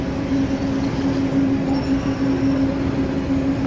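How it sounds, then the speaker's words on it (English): Disneyland monorail train passing close by, a steady loud rolling rumble with a sustained tonal hum and faint high squeal throughout, with no voices. "Mara, the monorail goes through the In-N-Out drive-thru, right?"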